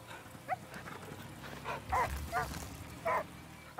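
Dog barking in the video game Last Day of June, several short barks spaced irregularly over a low rumbling game soundscape, moderately loud.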